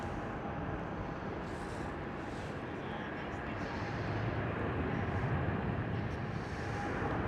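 A KLM Boeing 777 airliner arriving at Schiphol, a broad continuous roar of jet engines with wind buffeting the microphone, growing slightly louder toward the end.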